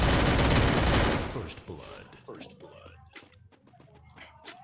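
Bursts of rapid automatic gunfire ring out loudly in a battle royale shooter match, then give way to scattered single shots and softer game effects while a voice talks quietly over them.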